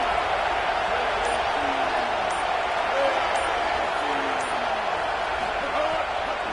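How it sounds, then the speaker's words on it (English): Stadium crowd roaring in support of the defense on third down at a Texas vs Ole Miss football game, a dense sustained wall of cheering with a commentator talking over it. "Decibels rising as the crowd gets behind this defense on third down."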